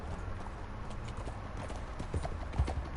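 Steady clip-clop of an Arabian horse's hooves trotting along in the video game Red Dead Redemption 2, a rhythmic muffled patter over low background noise.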